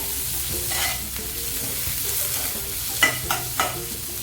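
Onions sautéing in a pan, a steady close sizzle with spatula scrapes and a few louder clacks toward the end.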